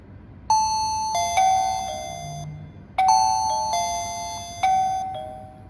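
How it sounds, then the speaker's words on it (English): A video doorbell's chime rings out clearly, playing two full multi-note ding-dong sequences in succession, bright and close with lingering tones and no talking. "When you ring the doorbell again, the chime will ring along."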